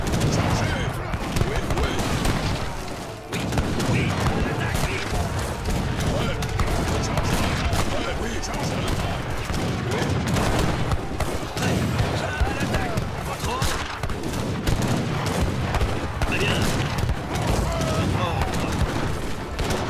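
A large artillery battle in Age of Empires 3 between French and Dutch armies, with falconet cannon booms and musket fusillades in a dense, continuous roar of overlapping shots and crashes, and voices talking over it.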